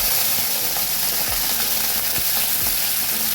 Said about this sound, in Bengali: চিংড়ি মাছটাও তেলে দিয়ে দিচ্ছি।